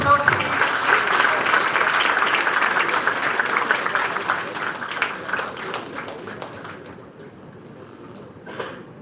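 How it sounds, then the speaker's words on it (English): An audience applauds at a live bioethics session, steady dense clapping that fades over several seconds, with some voices mixed in, ending in quieter scattered claps. "A big round of applause"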